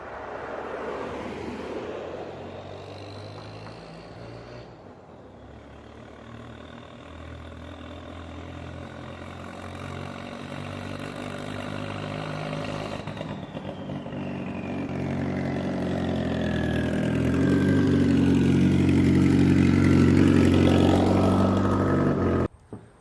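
Turbo drift truck engine on a test drive, a steady droning motor with a rising whine, swelling louder toward the end as it accelerates.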